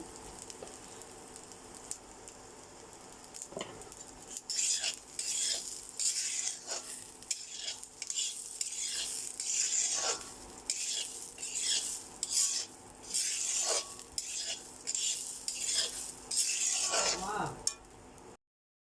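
Biryani rice with a little turmeric frying in a pan, stirred repeatedly: rhythmic scraping and rustling strokes over a soft sizzle, fairly close and moderately quiet, with no voices.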